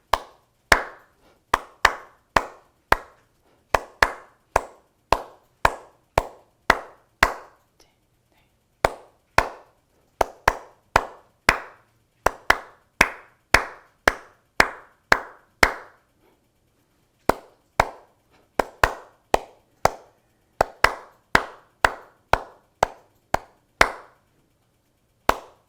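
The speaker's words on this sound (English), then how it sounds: "Let's clap this now." Hands clap a musical rhythm for a flute lesson on America the Beautiful, crisp single claps in short measured phrases separated by brief pauses, close and clear with no talking.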